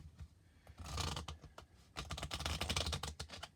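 Tarot cards are riffled together in two quick fluttering bursts, crisp and close, with no talking.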